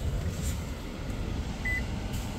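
A 2024 Toyota Sienna gives a single short, clear electronic beep during key registration, a brief tone over a low steady hum.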